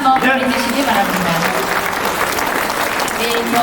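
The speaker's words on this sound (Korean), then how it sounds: "우리 코디네이터님께 큰 박수 한번 보내주시기 바랍니다" Audience at a Rotary club event bursts into sustained, dense applause that fills the room, with a voice briefly audible at the start.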